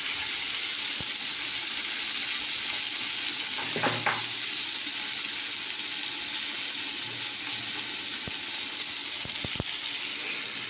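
Spices and cumin powder sizzling steadily in a hot pan, a loud continuous fry with a few clinks of stirring, close up.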